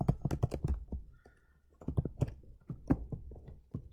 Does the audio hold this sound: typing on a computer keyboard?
yes